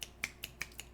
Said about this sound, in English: we just snap our fingers